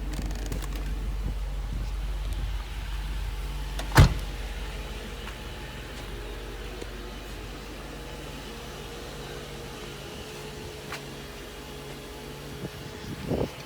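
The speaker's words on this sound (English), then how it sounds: "You can hear the air pump. It's part of the emission system." A Mercedes 500SL R129 with the M119 engine idles after a cold start, its emission air pump adding a steady low mechanical whir, with one sharp knock partway through.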